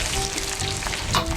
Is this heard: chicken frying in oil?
yes